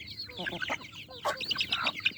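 A chicken clucks in short, close bursts outdoors, a few quick clucks and calls in a row, with faint background noise.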